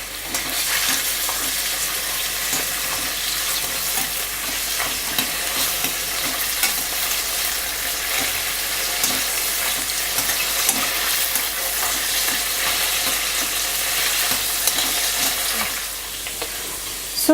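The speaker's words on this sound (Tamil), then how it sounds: "ஸோ இது வந்து லைட்டாக ஃப்ரை ஆனோன்னு கொஞ்சம் ப்ரௌன் ஆகிறதுக்கு முன்னாடியே எடுத்துடணும்" Paneer cubes fry lightly in a pan with a loud, close, continuous sizzle, with faint stirring scrapes mixed through the crackle until it eases off near the end.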